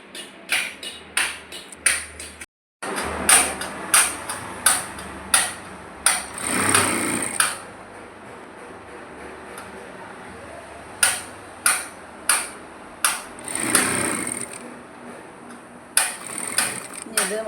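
Domestic sewing machine stitching a churidar, heard as repeated short mechanical bursts of whirring stitching separated by pauses, fairly close and clear, with a brief silent gap early on.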